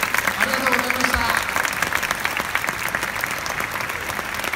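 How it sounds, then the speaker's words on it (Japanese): Audience at a Kumamoto marching band festival applauding the conductor, a steady dense wash of clapping that holds evenly from start to finish, with a brief announcer-like voice faintly underneath early on. "指揮をしていただいた宇津木誠先生にもう一度盛大な拍手を送ってください。"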